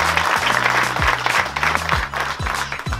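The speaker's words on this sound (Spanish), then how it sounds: "un fuerte aplauso para nuestro delegado" Applause from a crowd gathered for the opening of a Liconsa milk outlet, steady dense clapping filling the whole stretch, with low voices murmuring underneath.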